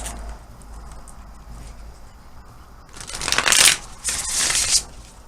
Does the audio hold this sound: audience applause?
no